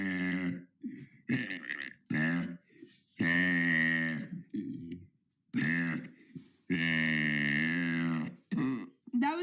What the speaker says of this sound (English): That was day 58 of burping for 100 days.